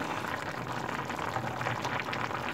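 Broth for rice bubbling at a steady rolling boil in a cooking pot, a continuous close hiss of popping bubbles with no voices.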